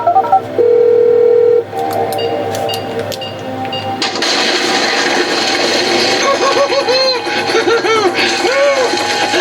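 Telephone dialing tones ring out as a call is placed: a steady tone followed by short key beeps, then noisy room sound with a voice talking over it.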